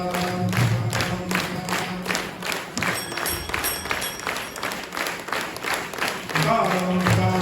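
Rhythmic group handclapping from a devotional kirtan gathering in Balavali, with steady beats keeping time under a chanting voice and a droning harmonium-like tone.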